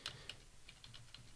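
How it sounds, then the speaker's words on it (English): Soft clicks from a computer keyboard as the Shift and Enter keys are pressed, a few quick, faint, close keystrokes spaced over about a second against a quiet background. "then I have to hold shift and hit enter"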